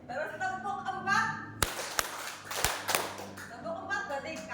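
A few sharp, separate hand claps sound in a classroom clapping exercise, loud and spaced unevenly, between stretches of a teacher's spoken instructions.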